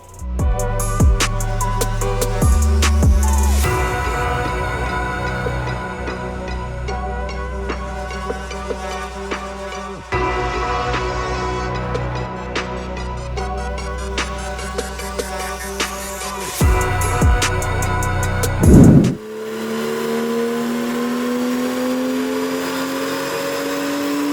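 A boosted BMW M2 with an N55 engine runs hard on a dyno, its loud, close exhaust note climbing in pitch through several sustained pulls, with sharp breaks between runs and a final lower rising drone, no voices present.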